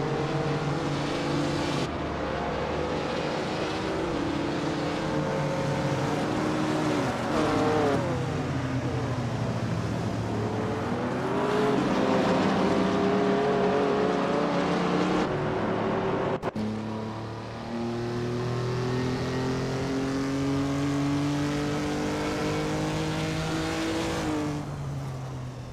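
Race cars in a video game lap the Detroit street circuit, engines droning loudly and shifting pitch as they accelerate, brake and change gear, several cars layered together in a continuous roar.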